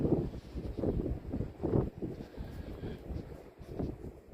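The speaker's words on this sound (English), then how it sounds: "We're supposed to have 60 mile an hour gusts today" Strong gusty wind outdoors on a farm, buffeting the microphone in rough rumbling surges that rise and fall close up.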